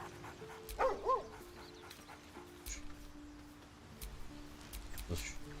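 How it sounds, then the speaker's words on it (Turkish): Dog in the video game Baldur's Gate 3 giving a short whimpering yip, a brief close vocal burst over game ambience and music, with a person talking. "Aha bizim köpek."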